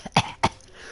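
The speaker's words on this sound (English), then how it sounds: "just cough randomly." Two quick, sharp coughs close to the microphone in rapid succession, the second slightly softer, followed by quiet.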